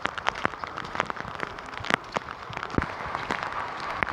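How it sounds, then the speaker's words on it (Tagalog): Heavy rain drums steadily on a surface near a hut in a muddy yard, a dense crackling patter with scattered louder drops throughout, and no talking. "lakas ng ulan"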